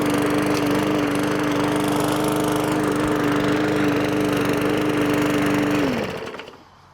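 A gas lawn mower with a 20-inch cutting path drones loudly and steadily at close range while cutting grass, then cuts out and winds down near the end.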